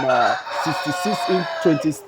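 Layer and broiler chickens in farm cages cluck in quick, close, repeated bursts, one longer call at the start, with the flock murmuring steadily underneath.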